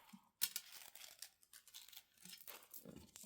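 Paper being cut and torn for a junk journal, with several close, crisp snips and crinkling rustles in an irregular rhythm, no talking.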